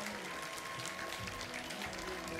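Studio audience clapping for a debating team on a 2017 Ishq Ramazan TV show, a steady broad wash of applause lasting throughout at moderate level with no voices.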